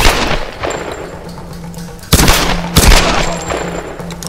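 Gunfire in the video game Tomb Raider: two sharp, loud shots about half a second apart near the middle, each with a short echoing tail over steady game ambience.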